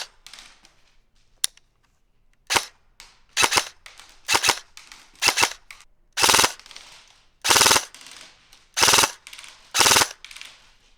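A Specna Arms SA-J09 EDGE 2.0 airsoft AK with an ASTER V3 gate, powered by an 11.1 Titan battery, fires one single shot and then several short full-auto bursts of rapid, crisp, mechanical cracks separated by brief silences.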